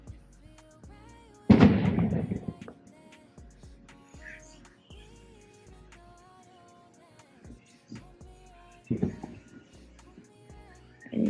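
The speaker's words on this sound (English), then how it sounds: "they captured some fireworks" Fourth of July fireworks go off outdoors: two sharp, booming bursts with crackling tails rise above a quiet background, the first louder than the later one, and a third starts at the very end.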